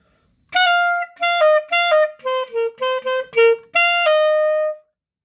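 Clarinet playing a tune from the Minecraft movie: a short melody of about nine clean, separate notes. The first notes are held, then a quicker run of shorter notes follows, ending on a long sustained tone. No voice is heard.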